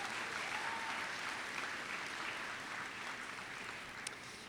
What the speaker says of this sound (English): Give yourselves a round of applause for those athletic accomplishments.